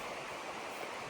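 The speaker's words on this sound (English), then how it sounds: "Near the river, there's the river." A river near a holy well flows with a continuous, even rushing wash, fairly faint and unbroken, with no voices.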